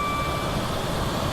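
Driver vigilance alarm in the train game Train Simulator 2017 on a South Wales coastal route, a steady high electronic tone held over loud engine rumble and noise, close and continuous.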